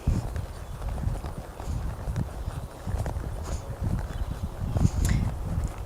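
A horse's hooves at a sitting trot, a steady two-beat clip-clop on soft ground, close and continuous throughout.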